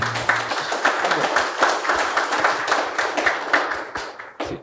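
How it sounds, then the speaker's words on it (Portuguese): An audience at a political talk show breaks into steady, close applause, a dense patter of many hands clapping that carries on for several seconds. "Uma salva de palmas."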